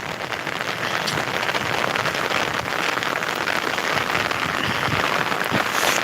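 Dense, steady rain patters on surfaces close by, a continuous broadband wash with scattered sharper drops and no voices.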